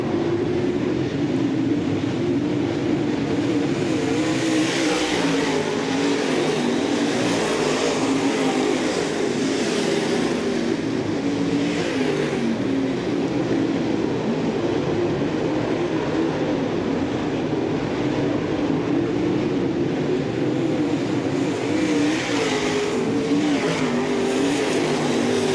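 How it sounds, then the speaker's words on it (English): Dirt track race cars roar down the backstretch off turn 2 at a Southern Ontario motor speedway, a loud, continuous engine drone from the pack that rises and swells steadily throughout. "Good even start that time, and as they head down the backstretch, off of turn 2 they go."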